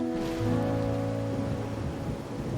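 Rain falls steadily in the video game Wuthering Waves, a soft continuous wash of drops mixed under a sustained musical drone and low tones throughout.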